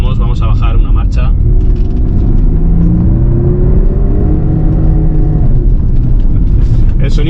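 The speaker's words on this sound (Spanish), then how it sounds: "cuando aceleramos, vamos a bajar una marcha" A Porsche Cayenne Diesel V6 engine hums and rises in pitch as the car accelerates and drops a gear, a loud steady cabin rumble running under continuous talking.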